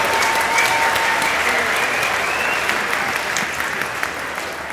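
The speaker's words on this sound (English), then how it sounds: "please let both of these fighters hear a rousing round of applause for big hits and accurate" Crowd at a Muay Thai fight event applauding both fighters, dense sustained clapping and cheering throughout, loud and steady with a faint tone running underneath.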